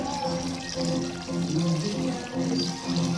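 Country chicken meat rubbed with turmeric is washed under running water, a steady nearby pour and splash swelling and easing in waves, with no voices.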